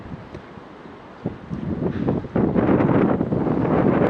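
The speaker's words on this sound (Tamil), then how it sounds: "காற்றெல்லாம் அலையெல்லாம் அடிக்குது பாருங்கள்" Gusty wind buffets the microphone, building from a light rush into a loud, continuous roar with river water sloshing underneath, in Singapore.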